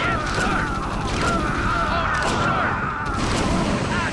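Flame-spurting bursts and mechanical clanks from a StarCraft Firebat attacking a tank, a few loud whooshing blasts layered with clattering battle effects in quick succession.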